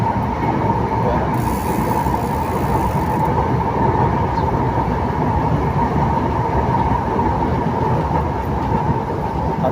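An elevated LRT train rumbles steadily overhead, a loud continuous roar with rattling undertones that never lets up, mixed with surrounding street noise.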